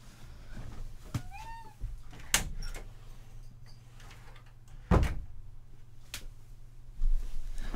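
A domestic cat lets out a couple of short meows early on, followed by several door-like knocks and thumps in a quiet room, with no talking.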